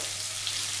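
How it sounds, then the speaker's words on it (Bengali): Potatoes frying in hot oil seasoned with five-spice (panch phoron) for a potato and pea curry, giving a steady, close hiss of sizzling with no talk. "তো আমি এবার আলুগুলো দিয়ে দিচ্ছি"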